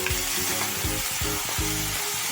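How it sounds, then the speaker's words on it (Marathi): Grated carrot sautéing in melted ghee, part of a Marathi-style carrot barfi made without khoa, gives a steady close sizzle and fry crackle with soft stirring scrapes recurring every half second or so. "आणि त्या तुपासोबत आपल्याला एक पाच ते सात मिनिटं छान आपल्याला परतून घ्यायचं"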